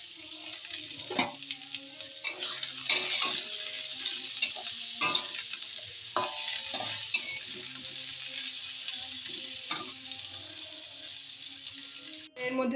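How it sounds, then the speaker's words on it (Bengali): Taro stolons frying in hot oil with nigella seeds and chili, a bright crackling sizzle broken by repeated stirring scrapes and clinks of a spoon against the pan, with no talking. "কালো জিরে আর লঙ্কাটা একটু ভাজা ভাজা হয়ে গেলে এর মধ্যে দিয়ে দিচ্ছি কচুরলতি।"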